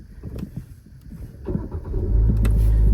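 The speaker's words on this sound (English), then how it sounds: "Let me turn the car on." A Kia K5 car starts up: quiet handling noises and faint clicks give way to a swelling low engine rumble that settles into a steady idle hum close by.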